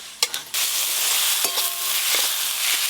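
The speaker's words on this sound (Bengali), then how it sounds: "সব মশলা একসঙ্গে ভালো করে কষিয়ে নিয়েছি" Ground spices (masala) and tomatoes fry in a pan with a loud, steady, close sizzle, opened by a few quick scraping stirs and clinks.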